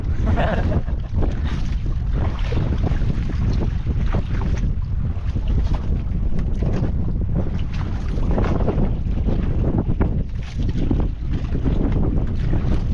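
Strong wind roars steadily across the microphone aboard a small fishing boat at sea, with waves washing and slapping the hull in a continuous loud rush.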